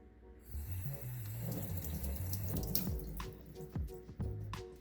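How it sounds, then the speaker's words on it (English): Tap water runs over a dried sea cucumber being rinsed in a sink, a steady close splashing stream with shifting tone as the piece is moved under the flow, no talking. "let me just give it a quick rinse."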